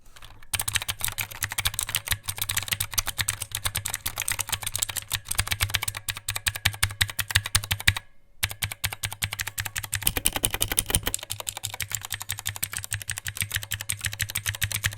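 Fast, steady typing on a mechanical keyboard with blue switches, sharp clicky keystrokes, close and loud, continuing throughout with a brief pause midway.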